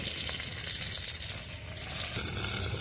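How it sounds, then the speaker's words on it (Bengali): Brinjal (eggplant) slices frying in oil, browning to a reddish colour, give a steady, dense sizzle close by that holds at an even level throughout, with no talking. "বেগুনটা ভাজা হয়ে গেছে, এবার আমি নামিয়ে নেব। লাল লাল করে ভেজে নিলাম।"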